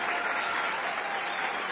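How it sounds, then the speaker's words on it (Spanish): Steady applause from a crowd, dense even clapping throughout with no pauses. "El aplauso es para ti"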